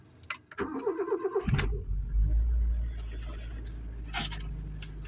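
Mazda car engine starting after winter storage: a starter cranks with rapid rhythmic whirring for about a second, then the engine catches and settles into a steady low idle, with a few light clicks and jingles nearby.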